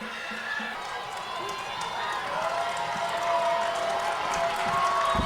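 A high school football crowd at a South Stanly versus Mount Pleasant Monday night game roars in a sustained wash of cheering and clapping that swells toward the end, with a commentator talking over it.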